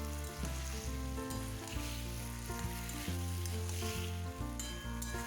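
Turmeric is stirred into taro leaves frying with dal in a pan. A loud, steady sizzle and crackle runs throughout over a sustained tonal hum, with no talk.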